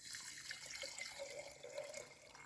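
Water pours in a soft continuous trickling stream, faint and steady, filling a container to dissolve a fertilizer for an apple-tree spray mix.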